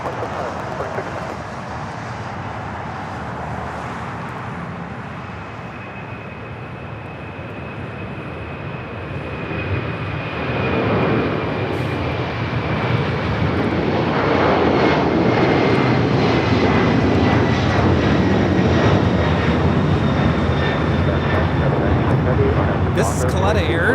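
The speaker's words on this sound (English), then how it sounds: "Air 214 taking off to Seoul on the 747-400 converted freighter" Boeing 747-400 converted freighter taking off from LAX for Seoul: a deep jet engine roar that swells steadily, broadband and rumbling, with a thin whining tone across it and radio chatter faintly underneath.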